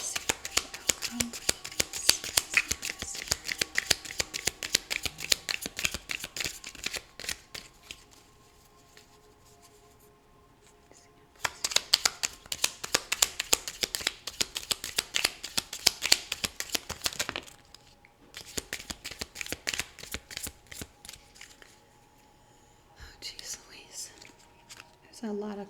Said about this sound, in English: There's a ton of cards that just fell.